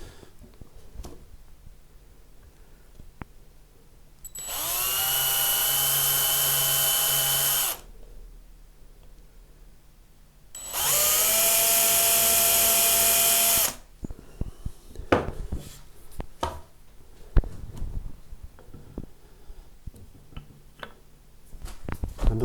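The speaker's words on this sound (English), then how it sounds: "I've got 2mm drill bit with the tape flag on so I don't drill too deep." A power drill with a 2mm bit boring shallow screw holes in a guitar headstock for fitting tuners: two separate bursts of a high whining motor, each about three seconds, followed by small clicks and handling noise.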